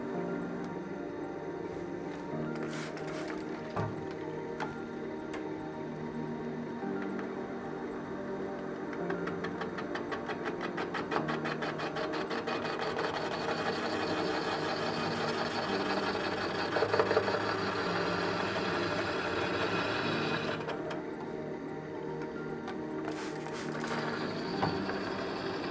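A tire regrooving cutter slicing into the tread of a tire cut for the first time, heard as a continuous mechanical buzz with intermittent changes, steady and fairly close throughout.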